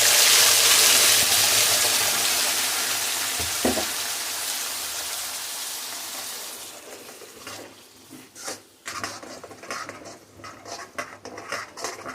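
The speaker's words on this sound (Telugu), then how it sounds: "దీన్ని మెల్లగా ఒక 5 నిమిషాల పాటు వేయించుకుందాం" Tomato and onion paste sizzles in a pan for a Kashmiri dum aloo, a loud steady hiss at first that gradually fades and thins, with faint stirring clinks and scrapes toward the end.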